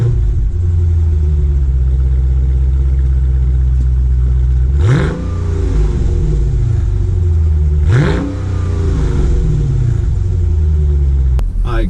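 A brand-new Dodge Challenger T/A 392 holds a loud, deep engine rumble throughout, broken by two sharp revving blips a few seconds apart.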